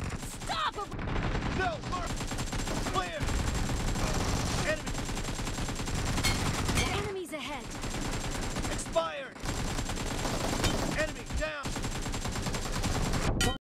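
A mobile shooting video game plays rapid bursts of gunfire, dense clusters of shots broken by brief pauses, loud and close under occasional game effects.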